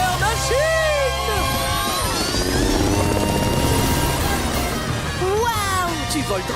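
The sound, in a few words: cartoon police helicopter flying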